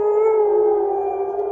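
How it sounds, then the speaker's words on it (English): An air raid siren sounds during a red alert, a loud sustained wailing tone holding steady with stacked harmonics and only a slight dip in pitch through its brief span. "air raid siren."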